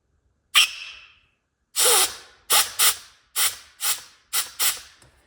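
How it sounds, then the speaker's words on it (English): Air is applied and removed repeatedly on a 14 bolt axle's locker actuator, giving sharp bursts of air hiss, some with clicks, in a quick irregular series of about eight pulses, close and alone. "you'll hear the actuator engage and disengage when you apply and remove the air source"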